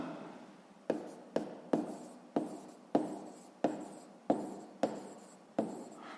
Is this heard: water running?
no